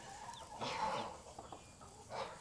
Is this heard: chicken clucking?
yes